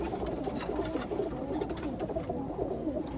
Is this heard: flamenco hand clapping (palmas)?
no